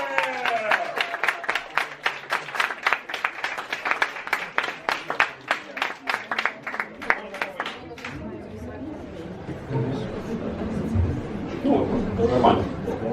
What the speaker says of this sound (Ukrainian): Антон Нестеренко, місто Полтава, під ваші оплески!